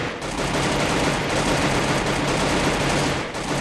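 Free Fire gunfire rattles as dense continuous automatic bursts, loud and sustained for several seconds, with a short break near the end.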